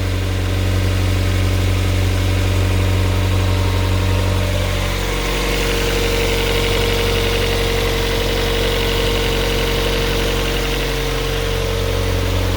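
A Mazda MX-5 NB, a cheap roadster with no lifter tick, idles smoothly and evenly at close range, its low steady hum alone with a slight pitch shift partway through.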